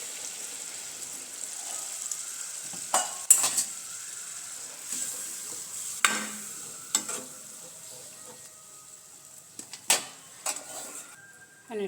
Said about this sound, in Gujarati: તો આ બાફેલા ચણા છે તે આપણે ઉમેરી દઈશું તેમાં.